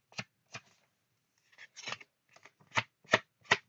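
Thin paper pages of a Magical Woodland colouring book being handled, a series of crisp rustling flicks and rubs in irregular bursts, close and fairly quiet with no talk.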